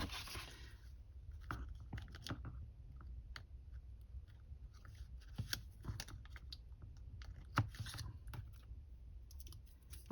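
Scissors snip through paper while a trifold ephemera holder is made, the blades sticky from postage stamps, giving scattered close crisp cuts and rustles at an irregular pace.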